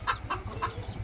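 A rooster, kept as a decoy bird, gives three quick, close clucks in a short rhythmic burst, with low background rumble between them.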